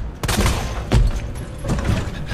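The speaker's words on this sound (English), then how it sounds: "Hear gunshots and stuff." Several loud, booming gunshots from a game ring out in quick, irregular succession, each with a heavy low thump and echoing tail.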